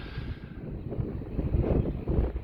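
Steady, rough wind buffeting a microphone outdoors on a golf course at Seahouses, a continuous low rumble with gusty surges and no voices.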